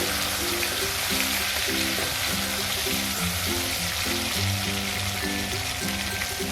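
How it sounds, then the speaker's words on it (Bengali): Ridge gourd cut into long, large pieces frying in oil, giving a steady, close sizzle that runs evenly throughout with no talking. "এবার ঝিঙেটা ভালো করে তেলের মধ্যে একটু ভেজে নিলাম।"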